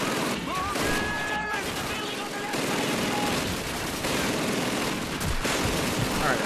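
Call of Duty 2 combat gunfire, rapid bursts and scattered shots layered with battlefield noise, with a voice talking over the shooting throughout.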